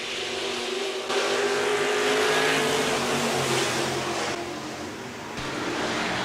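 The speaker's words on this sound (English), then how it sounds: "6 cars set to let her fly here in heat race number 2 for the IMCA Sportmods." Several IMCA Sportmod race cars roar together at a dirt speedway heat race start, a loud, sustained engine blare that surges and holds without pause.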